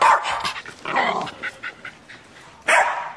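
A dog barks in a few loud, close bursts with some whimpering yelps between, the yaps ragged and uneven, with faint background noise and no clear talk.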